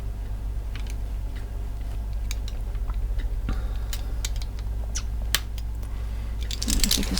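A blade trimming the sides of a small wax candle shaped like a mini birthday cake, giving a run of soft, irregular scraping ticks up close over a low steady hum, with no talk.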